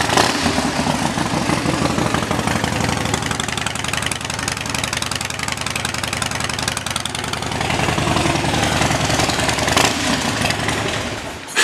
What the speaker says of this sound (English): Vance & Hines drag pipes specifically, are loud